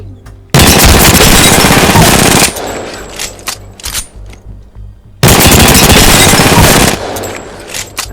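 An RE45 pistol in Apex Legends fires a full magazine as two loud, rapid automatic bursts of about two seconds each, with scattered clicks and handling sounds in the gap between them.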